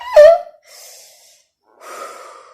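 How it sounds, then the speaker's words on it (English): Deep breaths drawn in and let out: a sharp gasping inhale, then a soft airy exhale, a pause, and another breathy exhale, close and alone with no talk. "Breathe in, breathe out"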